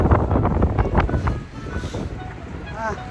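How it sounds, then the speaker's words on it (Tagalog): Wind buffets the microphone with a low, steady rumble on an observation deck, while a voice talks over it in the first half. "Mahangin."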